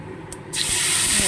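Batter hits hot oil in a pan of small hilsa fish with five-spice, and a loud, close sizzling hiss bursts up halfway through and holds steady to the end.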